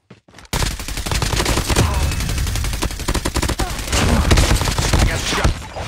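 Dense gunfire in a battle royale video game, steady volleys and rapid bursts crackling nonstop after a brief near-silent opening, loud and close throughout.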